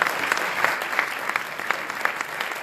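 Audience applauding the speakers at a French-language conference session, a dense, steady wash of many hands clapping at close range, sustained evenly throughout with no voices over it.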